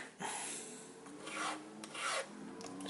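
A hand file rasps across a chainsaw chain being sharpened, three slow scraping strokes close up and fairly faint, with short pauses between them and no voices.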